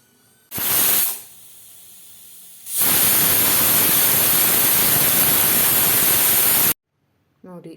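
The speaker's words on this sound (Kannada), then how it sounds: "ಕುಕ್ಕರ್ ಮುಚ್ಚಾಳ ಹಾಕಿ 2 ವಿಶಿಲು ಕೂಗಿಸಿಕೊಳ್ಳುವ." A pressure cooker of kushka rice vents steam in a loud, steady hiss, with a short burst first, then a long sustained rush of steam that cuts off abruptly near the end.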